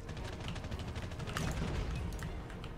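Rapid, dense gunfire from the Call of Duty Mobile video game, a steady stream of overlapping shots and bursts filling nearly three seconds at an even, loud level with no talk.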